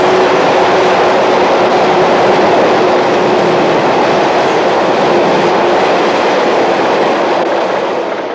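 A Shinkansen bullet train roars past at close range, a loud, continuous broadband rush with a faint rhythmic clatter, tapering slightly at the end.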